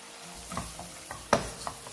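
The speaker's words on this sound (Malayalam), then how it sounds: "ഇതെല്ലാം കൂടെ കൂടെ നന്നായിട്ടൊന്ന് ഇളക്കി യോജിപ്പിക്കണം" Fried beef pickle is stirred in a pan over low flame: soft sizzling under a few quick scraping and clinking strokes, one louder knock midway, close and fairly quiet.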